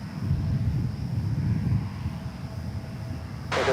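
At DFW Airport, an airliner taking off from runway 36 right produces a steady low engine rumble at a distance, and a burst of wind noise comes in at the end.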